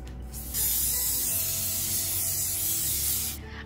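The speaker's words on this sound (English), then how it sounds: "We will lightly grease this with oil." Oil is sprayed over stuffed puff pastries laid on a baking sheet, a single loud, steady hiss of about three seconds that cuts in abruptly and stops sharply.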